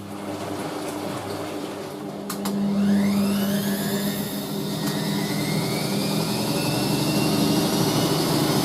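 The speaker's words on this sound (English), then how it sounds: "Multivax 3-in-1 wet and dry vacuum cleaner." A VAX 6131T Multivax 3-in-1 wet and dry vacuum cleaner runs with a steady, loud motor whine and airflow roar. The pitch rises as it spins up partway through, then holds continuously with no talking.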